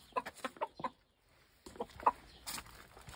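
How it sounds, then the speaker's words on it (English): A chicken on a farm in Cyprus clucks in short repeated bursts, fairly close and clear, with a brief quiet gap midway and no talk. "That's a big ass chicken."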